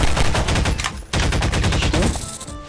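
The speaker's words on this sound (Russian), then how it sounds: "мощный выстрел, который не попал" Rapid bursts of video game gunfire in Garry's Mod rattle close and loud, a fast repeating stream that breaks briefly, then resumes before tapering off.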